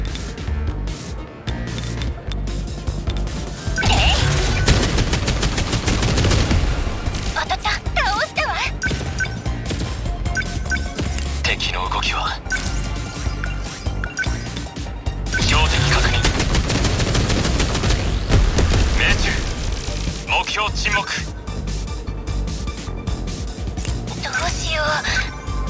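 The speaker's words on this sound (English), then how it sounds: "Let's just shoot with the cannons." Heavy cannon fire in the video game 13 Sentinels: Aegis Rim booms and rattles in rapid repeated bursts, loud and sustained, with a voice talking over the barrage.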